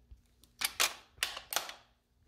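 The bolt of a Model 1917 rifle is worked by hand: a few close, crisp metallic clacks and sliding clicks in quick succession, clear against a quiet background with no talking.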